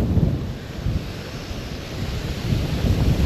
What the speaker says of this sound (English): this wind's about to blow me off this little friggin' drain pipe